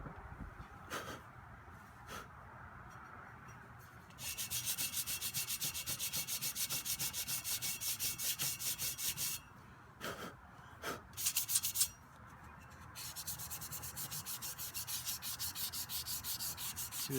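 A block wrapped in worn 220-grit sandpaper is rubbed by hand over corroded metal on a boat dorade part, giving steady close scratchy strokes broken by a few short pauses and taps.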